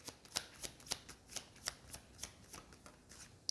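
Tarot cards are shuffled by hand in quick, rhythmic riffles, about a dozen soft crisp flicks close to the microphone, quiet and alone.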